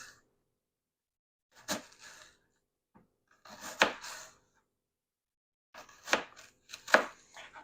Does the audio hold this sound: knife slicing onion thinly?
yes